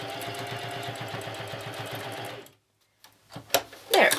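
A sewing machine stitches thick pleated fabric in a fast, rapid-fire mechanical rhythm for about two seconds, then stops. Brief handling clicks and rustles follow as the fabric is shifted, all close up.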